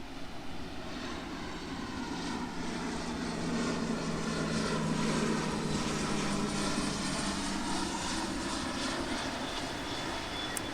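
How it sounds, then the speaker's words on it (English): Military plane passing over Myrtle Beach, South Carolina, a sustained broad engine roar that swells gradually and stays loud throughout, with no talk. "Yep, that is a military plane."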